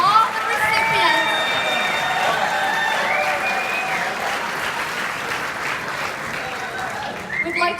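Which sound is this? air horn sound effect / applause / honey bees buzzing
applause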